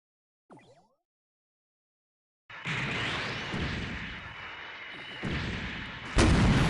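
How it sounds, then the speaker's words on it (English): A set of homing missiles launches in the video game SD Gundam Online, a brief faint chirp followed by silence, then a sustained loud roar of firing and explosions with bursts that swell, ending in a sharp louder blast. "we have a set of homing missiles"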